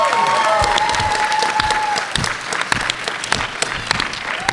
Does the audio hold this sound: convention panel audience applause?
yes